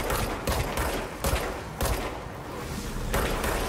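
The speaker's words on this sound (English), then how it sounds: "I'm going to shoot it." Gunfire in the video game Control, a rapid series of loud, close, booming shots in several bursts with brief gaps between them, no talking.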